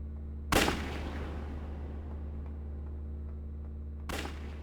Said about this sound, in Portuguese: Uma mira é apontada em sua cabeça e ele toma um tiro.